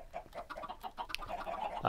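Chickens on a Minecraft chicken farm cluck continuously in a busy, overlapping chatter at moderate level, with several birds sounding at once.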